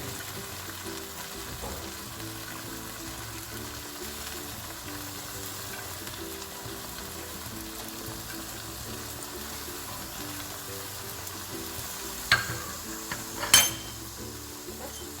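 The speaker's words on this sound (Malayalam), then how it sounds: "ഇനി ഇതിലേക്ക് കുറച്ച് കറിവേപ്പിലയും മല്ലിയിലയും ചേർക്കാം." A whole chicken roast fries in a pan with curry leaves and coriander leaves, giving a low, steady sizzle throughout, with a couple of brief utensil clinks near the end.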